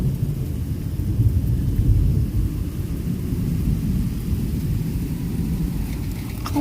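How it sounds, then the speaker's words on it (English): Loud, continuous low rumbling thunder rolls through a thunderstorm with steady rain, filling the scene without any voices. "So here comes the thunder"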